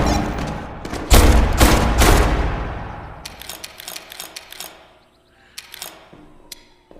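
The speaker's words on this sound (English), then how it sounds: "Keep shooting." Loud gunfire in the virtual reality shooter Tactical Assault VR: a cluster of heavy, booming shots early on, then lighter scattered clicks and pops as the action quiets down.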